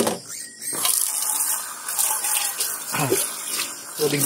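Running water splashes steadily while a cooking pot is washed at a campsite, a continuous close hiss with brief breaks and a few voices talking over it.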